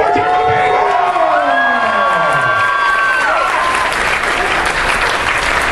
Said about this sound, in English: now you can applaud again without scaring the baby